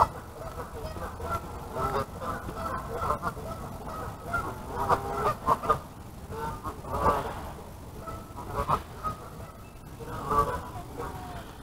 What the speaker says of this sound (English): there's gonna be a war of geese. The fish ain't biting, but the geese are.